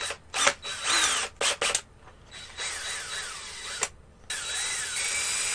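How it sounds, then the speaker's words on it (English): Electric power drill boring a hole while building a DIY Simon game kit, several close whirring bursts that stop and start, then longer steady runs with pitch rising and falling under load. "I'm going to use the drill"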